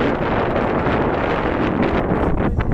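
Cold wind blows steadily and loudly across an outdoor microphone at a lakeside park, a continuous broadband rush with gusty swells throughout.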